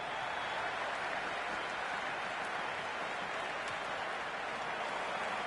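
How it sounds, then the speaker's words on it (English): A cricket stadium crowd in the Cricket 26 video game roars through a World Cup final, a dense, steady wash of cheering and applause that holds at the same loud level with no breaks. "The spectators are absolutely buzzing right now."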